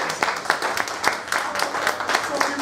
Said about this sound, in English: Let's have a big round of applause for the night of improv